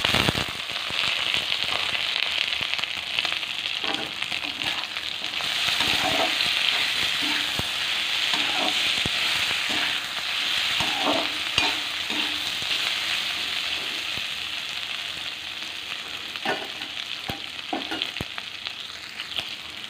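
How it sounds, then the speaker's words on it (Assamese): Steady loud sizzling of pork frying in a pan, with scattered clicks and scrapes as it is stirred; no voices. "বঢ়িয়াকৈ ভাজি ল'ম"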